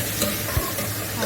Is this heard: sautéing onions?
yes